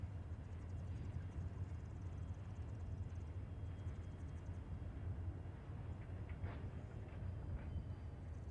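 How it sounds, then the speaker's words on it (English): An eight-car Union Pacific work train rolls past on the railway north of Caliente, dropping off spikes and tie plates along the right-of-way; a steady, distant low rumble holds throughout with faint clanks. "found an 8-car work train that was dropping off track supplies such as spikes and tie plates along the right-of-way north of Caliente"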